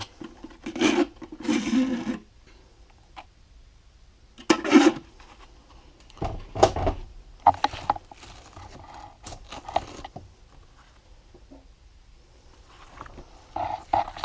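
Rough scraping bursts of wet sanding with sandpaper during carburetor work, several strokes in short clusters with pauses between, close and moderately loud.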